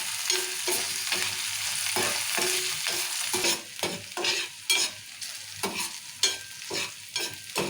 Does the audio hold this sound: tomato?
yes